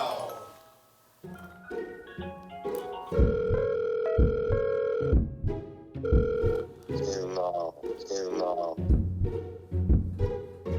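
A telephone ringback tone sounds in repeated steady beeps as an outgoing call connects, with people talking over it.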